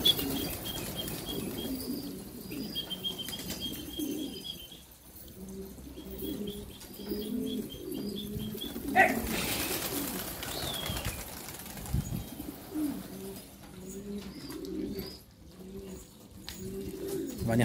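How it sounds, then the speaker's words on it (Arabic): A pigeon takes off with a brief flurry of flapping wings near the middle, amid ongoing cooing and chirping from birds around it, with no talk. "طبعا يا اخوان الطير فز."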